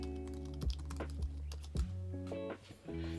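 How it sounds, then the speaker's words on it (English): Fingers typing on a computer keyboard, with soft, quick key clicks in short bursts under quiet, steady background music. "I'm just going to type up make a difference"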